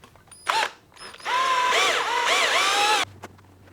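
A power driver sets screws into threaded inserts of a 3D-printed plaster mold: two short buzzing bursts, then a sustained close whirring run of about two seconds that rises and dips in pitch before stopping, with no talk.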